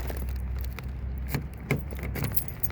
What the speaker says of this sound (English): I gotta get to my keys.